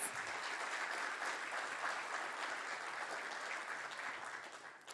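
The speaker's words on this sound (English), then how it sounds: "Ladies and gentlemen, please give him a large round of applause." An audience at a business forum gives a sustained round of applause, even and moderately distant, which fades slightly toward the end.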